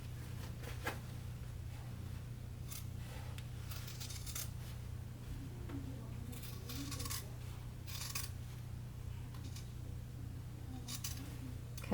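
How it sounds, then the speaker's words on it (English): Quiet scissors snip through fabric in several short, crisp cuts over a low steady hum, with faint handling sounds between. "I always just fold mine and then use my scissors to start"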